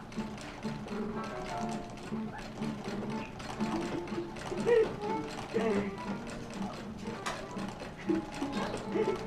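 A sewing machine stitches the shoulder seams of a wool blanket coat, giving a soft, continuous rapid mechanical ticking with small fluctuations, fairly quiet and close.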